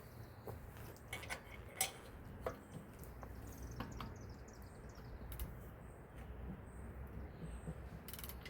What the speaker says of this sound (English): It's got a little bit of more aggressive click on the higher poundage.